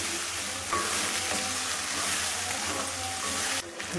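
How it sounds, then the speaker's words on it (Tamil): Ginger frying with Kashmiri chili powder in a pan for tamarind ginger pickle gives a loud, steady sizzle close by, with faint stirring scrapes throughout. "நல்லா கொஞ்சம் வதங்கட்டும்."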